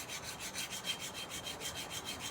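Steady rhythmic scraping of a dull scissors blade drawn back and forth across a sharpening stone, a gritty rasp repeating about five times a second, close and alone.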